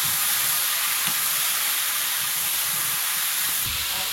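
Potato and eggplant fry in oil in a wok, giving a loud, steady sizzling hiss that continues without pause. No voices are heard.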